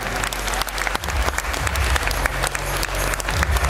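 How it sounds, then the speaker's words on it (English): An audience at a junior bodybuilding championship gives the competitors a hearty round of applause, with dense clapping, scattered cheers and a low thumping beat underneath. "let's give them a big warm round of applause"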